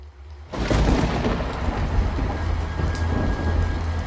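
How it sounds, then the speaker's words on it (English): Heavy rain pours suddenly and loudly, steady and dense, with deep rumbling thunder underneath. "That night, the storm came back, worse than before."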